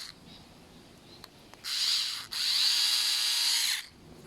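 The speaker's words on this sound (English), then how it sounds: "power screwdriver. Not too tight." A power screwdriver tightens screws on the carburetor of a MaxPro ZX 300 backpack blower, whirring in two close bursts about two seconds long with a short pause between them, set against a quiet room.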